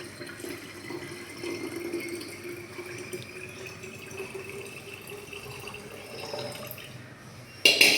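Water pours steadily into a container with a continuous gurgling rush, ending in a sudden louder splash.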